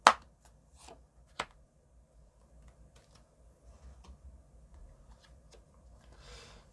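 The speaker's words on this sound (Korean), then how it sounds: "카드를 한 장 뽑아보도록 할게요" A tarot card is drawn from the deck with a sharp snap, a second distinct card flick, and then soft rustles and light shuffling in a quiet room, ending in a brief papery swish.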